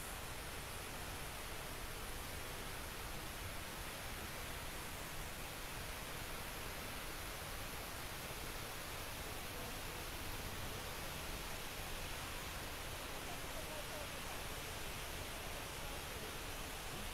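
A waterfall at the SDG Wells in Singapore pours steadily, a dense, even roar of rushing water that fills the whole stretch without pause, with no voices over it.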